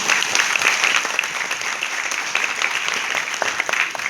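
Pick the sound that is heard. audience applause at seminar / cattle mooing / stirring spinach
audience applause at seminar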